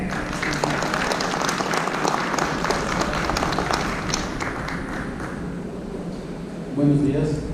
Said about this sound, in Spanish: recibamos con un fuerte aplauso al ingeniero Eduardo García McPherson